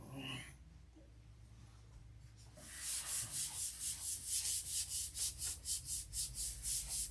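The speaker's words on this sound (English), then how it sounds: "So now it's going to be all about rubbing it and sanding." Rhythmic rubbing and sanding strokes on a finish, starting quietly then settling into a steady back-and-forth scrubbing rhythm at close range, with no talk.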